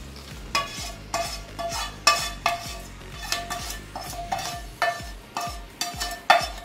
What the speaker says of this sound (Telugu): నేను పోపు కూడా కలిపేసుకుంటానండి.